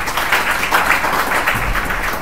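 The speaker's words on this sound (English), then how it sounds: "Can we give ourselves a round of applause?" Full, continuous applause from the audience at an International Women's Day gathering, loud and close, many hands clapping at once with no speech over it.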